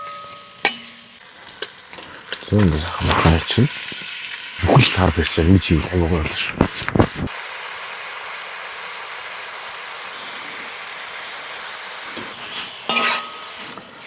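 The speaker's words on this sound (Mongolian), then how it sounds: "Махаа сайхан борлтон хуурах хэрэгтэй." Meat sizzles and crackles in a pan at a cold winter forest camp, a soft hiss underneath while someone talks over it, with a few clinks and stirring knocks between his words.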